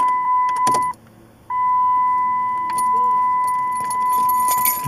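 Inside an '07 Dodge Ram 4wd with a 4.7L flex fuel V8, keys jingle and a steady electronic chime rings while the ignition is turned, but the faulty starter never cranks. Nearby talk is mixed in.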